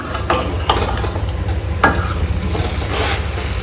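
A spoon scrapes and stirs chicken biryani rice mixture in a pot, with sharp clinks against the metal over a low steady cooking hiss.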